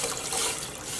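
Water is poured steadily into a yarn dye pot for a second, a continuous close splashing and trickling with no talking.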